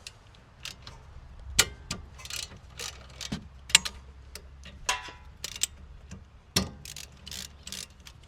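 Socket ratchet working on the rear brake caliper of a 2018 Honda CR-V, giving quiet clicking pawl ticks in short irregular bursts with a few sharper metallic knocks, close by and without speech.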